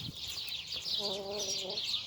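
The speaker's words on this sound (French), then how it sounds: "je peux caresser mes poules, moi, tu vois" Domestic hens clucking near at hand, a short run of soft rhythmic clucks that rises partway through over steady background noise.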